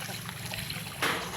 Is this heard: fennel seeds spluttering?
no